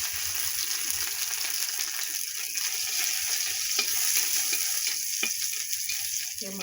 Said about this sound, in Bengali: মাছগুলো গরম করে নিলাম।